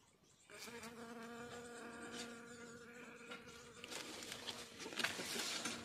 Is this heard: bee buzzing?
yes